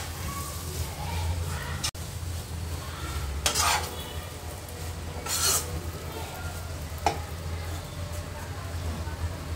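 Sweet vermicelli (seviyan) with saffron is stirred in a pan, a low sizzle under scraping spoon strokes with a few sharper clinks and swishes.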